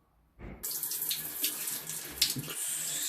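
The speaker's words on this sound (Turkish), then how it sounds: "Yıkama işlemini yapacağız. Drenaj deliklerinden gidecek o." Running water rinsing soil in a bonsai pot and draining through the holes: a steady splashing, hissing flow that starts suddenly after a soft knock and continues close by, with no talk.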